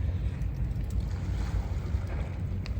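Water waves wash continuously against a boat out on open water during magnet fishing, a steady rough rush mixed with wind buffeting the microphone and no voices.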